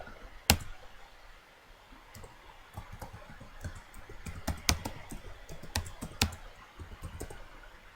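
Someone types a title into an online form on a computer keyboard, with quiet, uneven clusters of key clicks and a few sharper taps, close and without talk.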